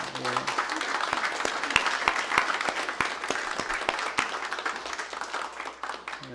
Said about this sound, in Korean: 우리 감사의 박수 한번 보내겠습니다